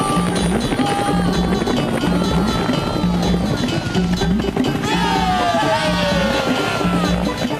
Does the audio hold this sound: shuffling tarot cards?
no